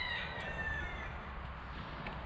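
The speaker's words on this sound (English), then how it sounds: "This rooster, he owns this street." A rooster crows in a street, a clear drawn-out call near the start fading over two seconds against quiet background hiss.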